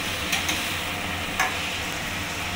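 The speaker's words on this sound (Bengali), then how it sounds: "এবার ভালো করে নাড়িয়ে নেব।" Spiced hilsa fish head and ash gourd are stirred in a pan, a steady close sizzle with a few soft scrapes of the spoon against the metal.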